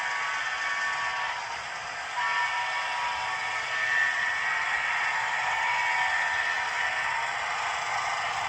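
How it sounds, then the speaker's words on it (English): Whistle from an Atlas HO scale Trainmaster FM H24-66 model locomotive in Southern Pacific livery, a steady hissing whistle tone held for several seconds from across a layout. "See what that whistle sounds like now that it's on the other side of the layout."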